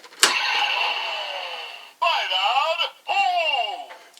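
Electronic toy audio from a Kamen Rider Drive DX Trailer-Hou with a Chaser Bat viral core inserted, a sharp click followed by a loud synthesized engine-like whine and swooping vocal-style tones in three bursts.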